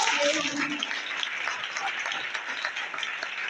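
Crowd of women clapping at a political rally in India, steady dense applause filling the whole stretch at moderate level, with a brief voice or tone near the start.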